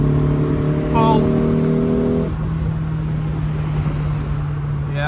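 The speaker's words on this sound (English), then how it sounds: "Right, so third gear, quarter throttle, going to 3/4," A Lotus Elan engine pulls in third gear toward full throttle with a loud, close, droning tone that holds for about two seconds, then drops away to a lower, steadier hum.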